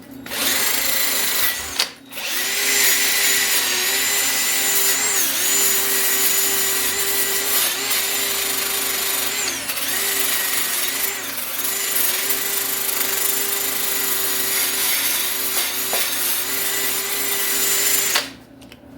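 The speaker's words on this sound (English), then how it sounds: "I put a bolt through this and attached to a drill. This is just kind of like a wire brush, but it's kind of like sandpaper too." A handheld drill spins a wire brush and abrasive arbor mounted on a bolt, scrubbing rust from a Ford 2.3 turbo engine block. The loud whirring grind runs continuously with slight pitch wobbles, briefly stopping near the start and at the end.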